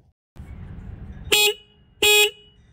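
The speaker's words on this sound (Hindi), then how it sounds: "इंजन के फ्रंट में इसका सिंगल हॉर्न है एक बार आप इसके हॉर्न की आवाज़ सुन लो" Two short, loud beeps from the single horn of a 2024 Bajaj Pulsar NS200 motorbike, a brief pause between them, over a low idling engine rumble.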